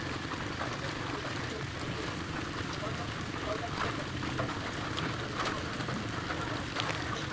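Heavy rain pours down steadily, a dense unbroken hiss with scattered drop patters throughout.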